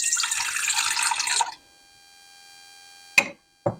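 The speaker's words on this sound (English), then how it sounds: "So to my little stand mixer here, I'm going to add a half of a cup of water." Half a cup of water poured into a stand mixer bowl in a home kitchen: a splashing, trickling pour for about a second and a half, then quiet and two short clinks.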